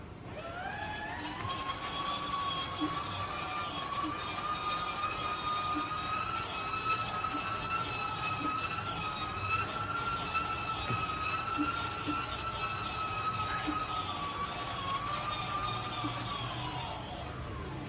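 A Belimo valve actuator motor rotating back to zero degrees gives a steady, close electric whine that rises in pitch at the start, holds for the whole stretch, and dips slightly at the end.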